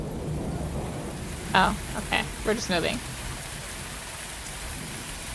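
Heavy rain pours steadily in the video game Universe for Sale, a constant hiss with low thunder rumbling beneath, while someone talks briefly in the middle.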